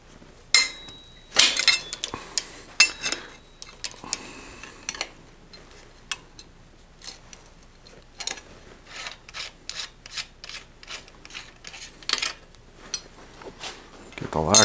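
A lock ring wrench scrapes and clicks against a bicycle lock ring on a 1987 Mongoose ATB mountain bike, irregular sharp ticks and rasps close up, with faint talk.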